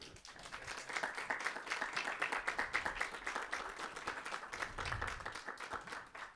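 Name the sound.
audience applause for a writer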